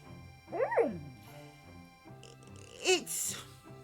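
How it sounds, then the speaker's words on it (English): A sleeping dog whimpers while dreaming, letting out two short, rising-and-falling whines close by, indoors, with a quiet pause between them. "dog's rabbiting in the sleep"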